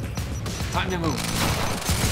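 Dense gunfire in the video game Quantum Break, a loud rapid barrage of shots layered with game effects and voices shouting over the fight.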